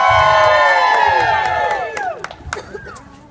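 A large outdoor Groundhog Day crowd cheers and shouts loudly in a sustained roar of many overlapping voices that fades toward the end, leaving scattered whoops.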